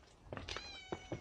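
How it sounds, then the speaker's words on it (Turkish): A stray cat following people meows several times in quick short calls, close and fairly clear over faint background. "Evet, peşimize takıldı bu kedi."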